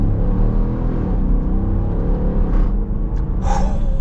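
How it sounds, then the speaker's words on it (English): A 2021 Dodge Durango R/T engine held at full throttle in manual mode, a loud, steady, deep roar with a rising growl filling the cabin for the whole stretch. "Now we're gonna go full throttle here with the RT Durango"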